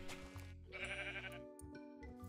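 Sheep in Minecraft bleat several times in quick succession, wavering nasal calls up close and fairly quiet, with no talking.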